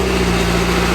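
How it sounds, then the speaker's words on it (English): A Mitsubishi Lancer Evolution X running with a newly fitted AEM cold air intake, a loud, steady engine drone with a low pulsing throb, close by and without talk. "Kevin's gonna start the car and we're gonna see how it sounds with the new intake"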